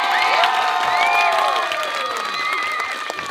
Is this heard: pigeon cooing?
no